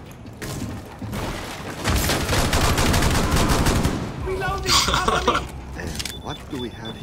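Bursts of automatic gunfire and shots in Rainbow Six Siege on the Presidential Plane map, loud and dense in the middle, with a voice speaking over the action.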